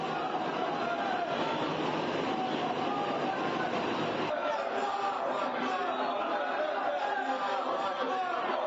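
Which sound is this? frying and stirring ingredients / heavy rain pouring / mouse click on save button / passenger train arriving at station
passenger train arriving at station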